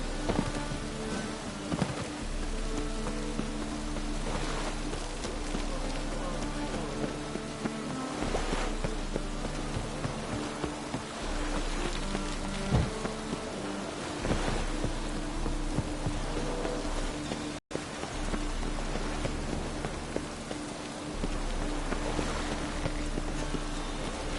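Steady rain pours throughout in a PS4 video game, a constant hiss of drops with a low rumble beneath, with a brief dropout near the end.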